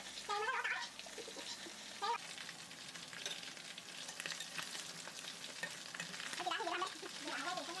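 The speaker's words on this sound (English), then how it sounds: "It takes about 15 to 20 minutes to deep fry." Chicken pieces deep frying in hot oil for crispy fish-sauce fried chicken make a continuous close bubbling sizzle, with stirring and turning noises and a few brief tonal sounds in the background.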